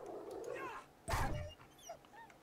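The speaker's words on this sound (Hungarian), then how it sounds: "Ott a rókakutya." A zombie dog in the survival video game 7 Days To Die snarls in one loud, rough burst near the middle, surrounded by quieter whining yelps and high chirping cries against a faint background.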